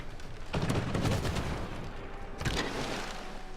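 A unit in Civilization 6 fires on barbarians: two booming gunshot-like blasts, the first near the start and the second a couple of seconds later, each with a rumbling tail.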